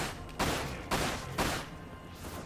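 Gunfire while shooting an enemy in the video game Dirge of Cerberus: Final Fantasy VII, heard as three sharp, loud bursts about half a second apart over a steady game background.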